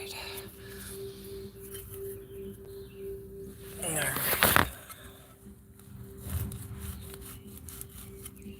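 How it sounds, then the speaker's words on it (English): A trusty saw blade rasps through a plant outdoors in one short, loud burst of rough cutting, set against quiet background hiss and a faint steady tone, with a few birds and some low voices around it. "Chop that plant. Ah, ah. Trusty saw blade."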